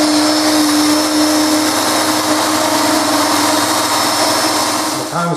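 A power sander works over wood pieces at grits from 120 up to 320, giving a loud, steady whirring drone close by that runs without pause, easing off slightly just at the end.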